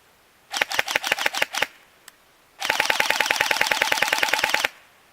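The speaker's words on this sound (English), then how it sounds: "as I continue firing, eventually I will run out of ammunition, and then when I'm out, the gun will stop firing" Systema PTW airsoft gun fires a short rapid burst, pauses, then rattles off a longer fast sustained burst that stops abruptly when the ammunition runs out; crisp, close and loud, with no talking.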